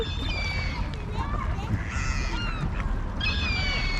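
Ducks quacking and geese honking in a busy flock on water, a steady overlapping chorus of calls outdoors in England after snowfall, with faint voices in the background.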